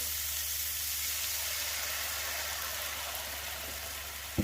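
Almond coconut milk poured into a hot pan on a Slow n Sear kettle grill while cooking BBQ pork chops, giving a loud, steady, close sizzle and hiss throughout, with a faint knock at the end.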